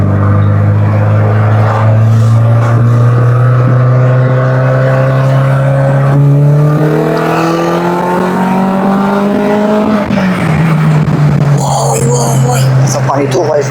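A car engine revs up close and loud, its drone climbing steadily in pitch for about ten seconds, then dropping briefly before holding high again, with a voice speaking over it.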